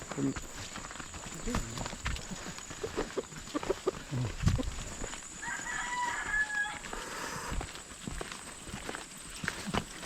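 A rooster crows at a campsite near Bacolod, Negros, amid chickens and clip-clopping steps, the crowing fairly faint and partly under nearby voices talking.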